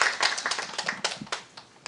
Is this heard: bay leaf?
no